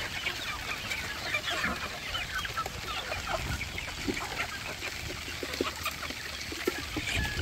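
Chicks on a Philippine poultry breeding farm keep up a steady, dense chorus of peeping, many birds calling at once with no pauses and no voices.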